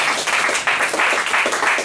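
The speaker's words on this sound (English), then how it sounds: "Round of applause." Audience applause at a Web Wednesday Hong Kong meetup, a continuous burst of many hands clapping, close and fairly loud, with no talk over it.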